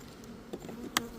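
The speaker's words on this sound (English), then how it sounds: "the hive with a lot of bees in it" Honey bees buzzing inside a busy beehive during an inspection, a steady low hum from many bees with a few brief louder bursts as individual bees pass close.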